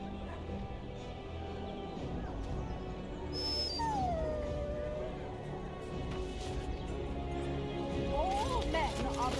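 A dog in the video game Dragon Age Origins whimpers and yips with a rising whine, over game ambience and people talking.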